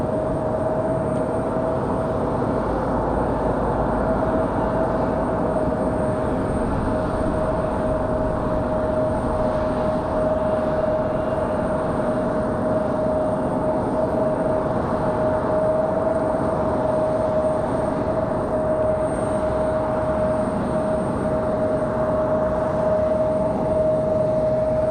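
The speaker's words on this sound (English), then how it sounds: "This one coming in at 23 right. Moxie 855 from Albany, New York." An Airbus A220 jet lands on runway 23 right at Raleigh-Durham, a sustained engine roar with a steady whine running the full length, loud and unbroken, no talk.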